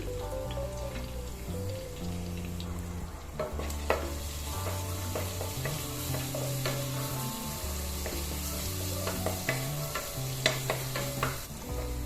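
Crushed cardamom, cinnamon, cloves and fennel frying in hot oil for chicken biryani, a continuous close sizzle with stirring scrapes and small pops, under steady background music.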